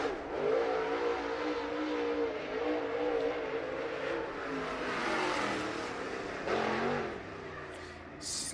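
Super Late Model race cars run at Cherokee Speedway, engines droning loudly and continuously with a sustained roar that shifts in pitch as the cars circle, heard from the track without talk.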